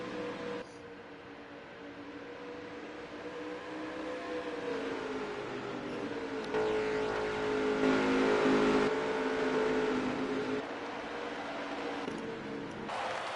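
NASCAR Heat race car engine on the Michigan oval, a steady high-gear drone that swells louder midway through as other cars join in, with no talking over it.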